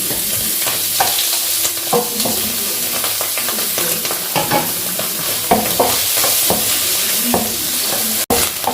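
A spoon stirs tomato paste into spaghetti sauce frying in a pan, loud close scraping and clinking strokes at an irregular rhythm over a continuous sizzle, with one sharp knock near the end and no speech.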